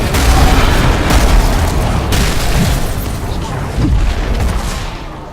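Cannon fire booms in the video game Heroes of the Storm, heavy dense blasts and bursts layered in a loud, continuous battle din.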